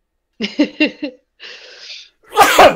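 A few quick breathy gasps build up, followed by a brief hiss and then a loud, forceful sneeze close by.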